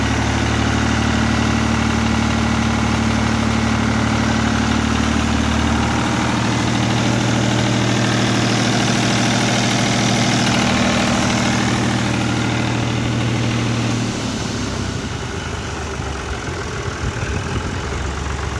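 A clean, well-kept 99 model Al Buraq tractor idles close by, with a loud, steady low diesel drone and a constant hum. Near the end the pitch drops and the engine sound turns rougher. There is no talking.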